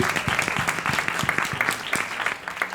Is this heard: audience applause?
yes